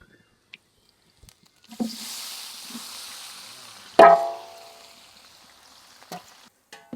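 Onions hit hot oil in a large biryani pot, a sizzling burst rising after scattered clinks, with a sharp loud flare midway that settles into a softer steady frying hiss.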